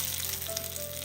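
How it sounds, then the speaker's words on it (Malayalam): Hot mustard seeds tempered in oil are poured into a dish and give a bright, steady sizzle up close, with a faint thin tone running underneath. "കടുക് താളിച്ചത് ആ ചൂടോട് കൂടി തന്നെ ഇതിലേക്ക് അങ്ങ് ഒഴിച്ചു കൊടുക്കാം."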